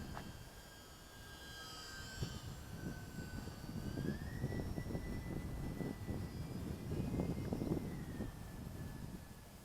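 A UMX Waco radio-controlled model biplane flies over a park, its small electric motor giving a thin whine that rises and shifts in pitch as it passes, over a breezy background rumble.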